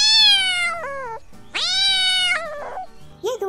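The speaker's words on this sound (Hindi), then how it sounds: "वहाँ एक कमरे में बिल्ली के दो छोटे छोटे बच्चे थे। उनकी रोने की आवाज सुनाई दी।" Two kittens cry out with drawn-out, high meows, one after another, close and loud, ending in a short squeaky mew.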